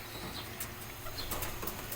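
Racing pigeons arriving back at a loft after a San Ildefonso release, their wings giving soft, brief flapping bursts at a moderate distance over a steady outdoor background.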